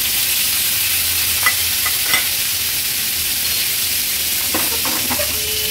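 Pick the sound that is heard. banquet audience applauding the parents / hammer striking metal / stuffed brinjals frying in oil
stuffed brinjals frying in oil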